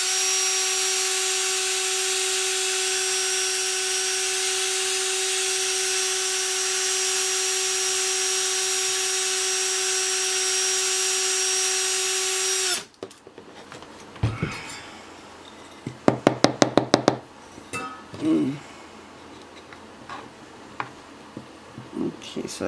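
A drill bores steadily into wood for a rotating tumbler cup turner stand, its loud, even whine running for about thirteen seconds before cutting off, followed by quieter knocks and handling clicks.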